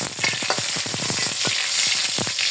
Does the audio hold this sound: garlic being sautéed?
yes